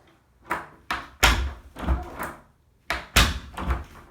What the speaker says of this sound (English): Right now the door should be closed pretty easily.